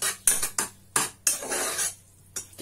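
A utensil scrapes and clinks against a bowl or pan while mayonnaise and butter are stirred into food, a few close, uneven strokes with short pauses between them.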